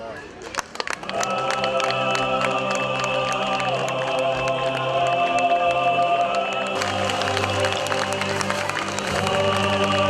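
An audience at an award ceremony in Guria keeps up sustained, dense applause for about ten seconds after a few opening claps, loud and close, with music-like tones sounding throughout.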